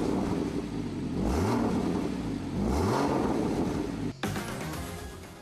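A Porsche Boxster Spyder's 3.8-liter naturally aspirated engine revs hard with the top down, two rising pulls climbing in pitch, then a brief cut and a sharp upshift before it pulls again, loud and close.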